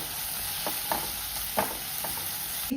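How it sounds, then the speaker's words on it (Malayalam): Chicken for a curry fries in a pan on the stove, a steady close sizzle broken by several short scraping stirs, with no voices. "ചിക്കൻ അടുപ്പത്താക്കിയിട്ടുണ്ട് കേട്ടോ."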